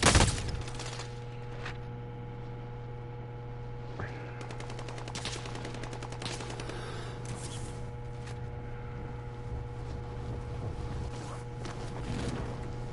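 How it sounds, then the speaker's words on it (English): Sustained automatic gunfire from a PS4 shooter rattles steadily for the whole stretch, dense rapid bursts over a constant low hum, with a louder blast at the very start and no talk. "I already got people shooting"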